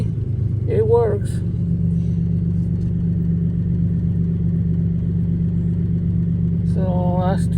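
A car engine runs with a steady low rumble after a new battery is fitted, heard close by throughout with brief chirping squeaks near the start and end and no clear talk.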